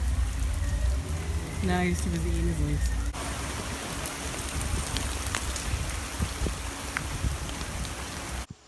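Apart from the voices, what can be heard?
rain falling at Animal Kingdom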